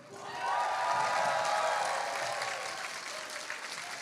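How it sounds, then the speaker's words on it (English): An audience at the Sync the City 2023 final pitch event claps for the winning team, a dense burst of applause that rises quickly, holds steady and fades slightly, with some cheering mixed in. "clap lowly, clap medium, clap loudly."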